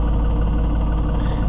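A New Holland TN75DA tractor engine idles steadily nearby, a constant low rumbling drone with no changes in speed and no voices.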